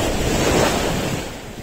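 Surf and steady wind on a Spanish beach on a calm day, a continuous loud wash of small waves mixed with gusting wind buffeting the microphone, no voices.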